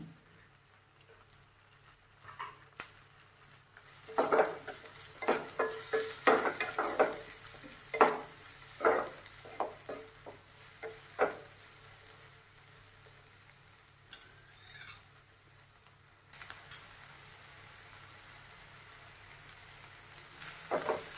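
Tomato fries in a pan with a soft, continuous sizzle, broken by bursts of sharp crackling and scraping as the pieces are stirred, then settling back to a quieter hiss.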